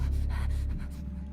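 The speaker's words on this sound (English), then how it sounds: "Breathing was a little weird. It sounds a little too human." A creature in the horror game Dagon lets out a short, sharp, human-like gasping breath, close and fairly loud, fading after about a second.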